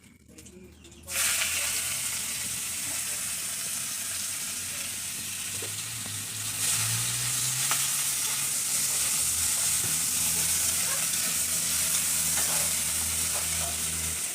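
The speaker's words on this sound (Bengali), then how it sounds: "তেলটা গরম হয়ে আসছে এখন দিয়ে দেবো পেঁয়াজ কুচি" Chopped onion hits hot oil with a sudden burst of loud, close frying that settles into a continuous sizzle, with stirring sounds over it.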